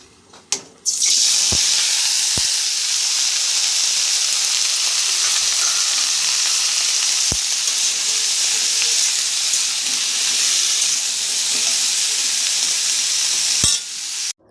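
Potatoes, eggplant and cauliflower fry in hot oil in a home kitchen, giving a loud, steady sizzle and hiss that runs unbroken from start to finish, with a few sharp clicks and clatters scattered through it.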